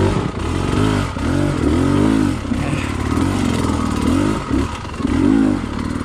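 An enduro dirt bike on the Brushy Mountain trail, its engine close and loud, revs up and down in repeated swells, with clatter and scraping from the rough ground.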